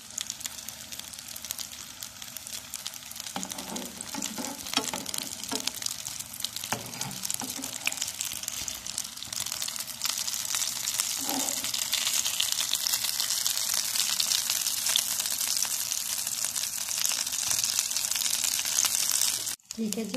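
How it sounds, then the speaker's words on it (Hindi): Egg and potato balls fry in hot oil in a pan with a steady crackling sizzle that grows louder and brighter as more balls go in. A person talks over the frying. "इसी तरह हम अपनी सारी बॉल्स करके फ्राई पैन में डालेंगे"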